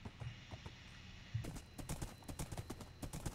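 A horse galloping in Minecraft, with quick, even clip-clop hoofbeats in a steady rhythm that grows louder and busier partway through, close and clear with no talking.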